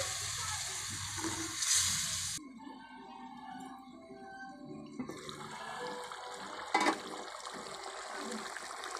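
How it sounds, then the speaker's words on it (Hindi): Water is poured into a pan of potato and pea curry for a Punjabi village-style aloo matar, a splashing, hissing pour that gives way to simmering and bubbling sounds, moderately loud and without speech. "अब इसमें पानी डालेंगे।"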